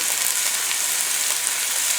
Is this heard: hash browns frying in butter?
yes